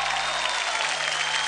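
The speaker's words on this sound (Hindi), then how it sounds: "तो एक बार जोरदार तालियां" A studio audience at a televised Zee TV kids' dance competition bursts into loud, dense, sustained applause.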